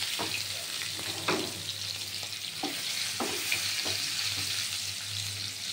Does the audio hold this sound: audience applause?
no